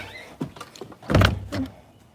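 A van's sliding door rumbles and thuds open at close range, with a few clicks of the latch before a heavy rolling slide and a softer knock as it settles.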